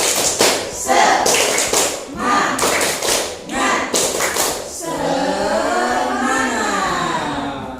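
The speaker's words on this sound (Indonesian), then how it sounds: "Sekali lagi, tepuk semangat." Students stand and repeat a patterned clapping cheer, sharp synchronized claps in rhythmic clusters alongside group chanting, closing with a sustained shouted chorus.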